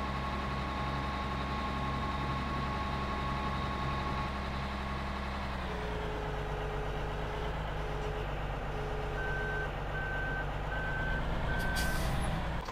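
Steady electronic reversing beeps from a vehicle in Farming Simulator 2013 pulse in an even rhythm over a loud, constant engine drone, with the engine tone dipping slightly partway through.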